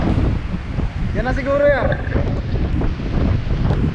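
Strong wind at the sea buffets the microphone in a steady, loud roar, while a person speaks briefly over it.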